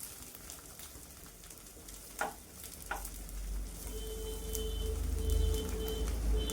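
Prawn paturi parcels, bound with thread, sizzle and crackle steadily in a pan. Two sharp knocks land partway through, and the close frying noise grows fuller and louder toward the end, with no talking.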